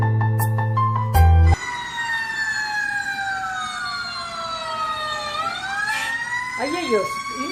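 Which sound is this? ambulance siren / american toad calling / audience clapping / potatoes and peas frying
ambulance siren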